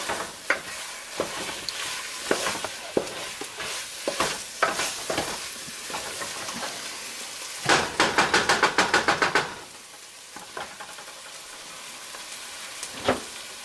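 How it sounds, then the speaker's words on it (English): Tomato paste is stirred in a frying pan with a spoon, making close scraping and tapping strokes over a soft sizzle, including a quick burst of rapid clacks midway, with no talking. "Stir until it's basically combined with everything else."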